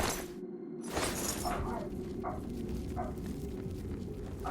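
A puppy barks loudly in a string of short, sharp yips over a dense, constant background noise, with a brief break near the start.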